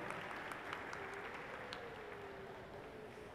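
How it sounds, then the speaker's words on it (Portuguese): Round of applause for a councillor at a formal ceremonial session of a municipal parliament, heard as a soft, distant, even patter of many hands. It holds steady throughout, and a faint tonal hum runs underneath. "uma salva de palmas"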